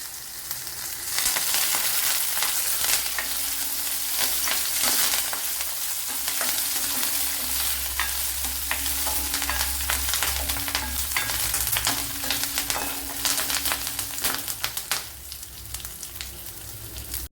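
Garlic, ginger and chili sauté in a hot pan, a dense continuous sizzle and crackle with occasional stirring clatter, close and fairly loud with no voices.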